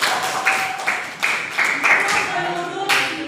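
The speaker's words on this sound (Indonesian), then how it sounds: "Oke, tepuk tangan dulu untuk Dila ya." A classroom group claps for a student named Dila in several short bursts of hand claps, with a teacher's voice running over and between them.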